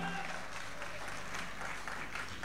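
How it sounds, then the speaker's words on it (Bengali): Audience in an auditorium clapping, a steady, even wash of applause held at moderate level for the whole stretch, with no voices standing out. "একটা জোরে হাততালি হোক সকলের জন্য"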